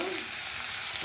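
Fried spice masala is stirred into a boal fish curry with aubergine and potato, giving a steady, dense hiss of sizzling from the pan throughout, close by and with no talking.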